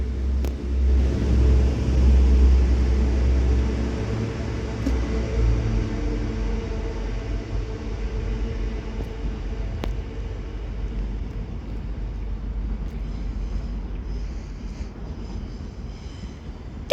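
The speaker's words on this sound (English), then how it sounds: "This Transpennine Express Class 185 passes through Salford Central now with the 11:03 Transpennine Express service to Leeds from Manchester Airport." A Transpennine Express Class 185 diesel train running through Salford Central station, a deep rumble that is loudest at the start and then eases into a long, steady roar as the train moves away.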